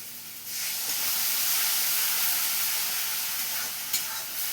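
A spice paste of coriander, cumin and black pepper fries with a little water in a pan over a strong flame, giving a loud, continuous steamy sizzle and hiss close by, with no speech.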